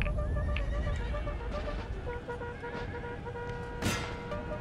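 Light horse cavalry charging in Napoleon Total War, a dense wash of battle noise with a horse whinny rising early and a sharp burst near the end, steady and loud throughout with no voices.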